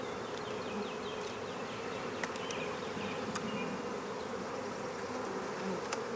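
Honey bees at an opened hive during a spring inspection drone in a dense, continuous buzz close by, with a few faint clicks of frames being handled.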